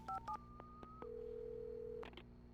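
A rapid sequence of touch-tone dialing beeps in the video game Alan Wake, then a steady ringback-style tone holding for about a second, followed by a couple of short tones, clear and close.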